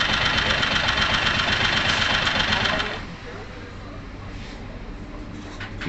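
A 2002 Honda CG Titan 125 KS motorcycle engine runs close and loud at raised revs for about three seconds, then drops back to a steady, softer idle.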